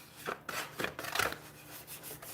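A hand rubs along a crease on a kraft paper treat box, several soft, quick scraping strokes, faint and close, with no talking.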